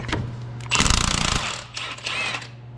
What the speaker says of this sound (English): So now we're gonna go ahead and take our gearbox bolts off.